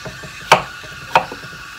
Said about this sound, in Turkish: Ben patateslerimi de doğrayayım.